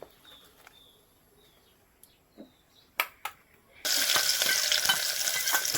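Onions dropped into hot oil for Maggi noodles burst into a loud, steady sizzle after a few quiet clinks and scrapes, with faint bird chirps in the background.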